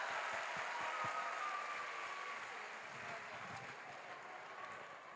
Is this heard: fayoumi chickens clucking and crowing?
no